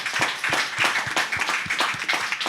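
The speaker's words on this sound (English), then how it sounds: "we should give a big round of applause" Applause from an audience at a Bali blockchain and Web3 panel event, greeting attendees who came through the rain: dense, steady clapping with sharp individual claps standing out, close and fairly loud, no talk over it.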